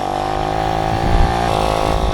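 A Romet Ogar moped engine runs close by with a steady, buzzy two-stroke drone and a slight rise in revs near the middle.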